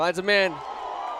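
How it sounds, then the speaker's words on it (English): High school football crowd at a WCAC game, Our Lady of Good Counsel at St. John's, swelling into a steady roar of reaction right after a man's brief spoken words. "You can hear the crowd react."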